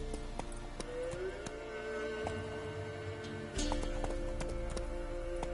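Roach the horse from The Witcher 3 clip-clops along in a steady rhythm of hoofbeats, close and fairly loud, with a snort or whinny and game ambience; the gait grows heavier near the end.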